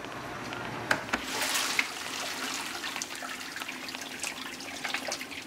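Water sprays and splashes steadily inside a running dishwasher, a continuous broadband wash with a few sharper knocks near the start, heard alone at close range.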